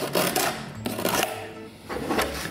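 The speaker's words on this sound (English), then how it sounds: "Now with a knife, I'm just going to start" A knife tearing back wood during a guitar repair, heard as a few close, rough scraping and ripping bursts separated by short pauses.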